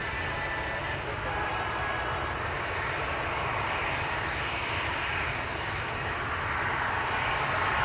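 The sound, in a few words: KLM Boeing 787 Dreamliner jet at Amsterdam Schiphol Airport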